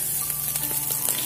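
Garlic, ginger and green chili frying in hot oil give a steady, close sizzle with faint scraping, no voices, for a brief moment.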